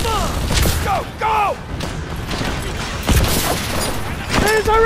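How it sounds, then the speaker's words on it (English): Explosions and gunfire in the video game Call of Duty: Advanced Warfare, a series of heavy booms and bursts of shots, loud and close, mixed with radio-style voices. "We can't get near those surface explosions."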